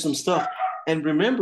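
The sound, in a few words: dog barking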